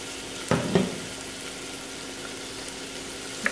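Chopped onion cubes frying in oil for a mutton keema dinner, a steady soft sizzle with two quick thuds or clanks near the start, close and without talk.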